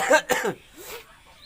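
Two sharp coughs in quick succession, close to the microphone, followed by quiet background murmur.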